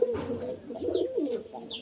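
Pigeons coo steadily at a pigeon seller's house, with repeated low throaty calls rolling close to the microphone for about two seconds and a few faint higher chirps in between.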